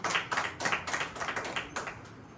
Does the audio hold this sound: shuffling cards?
no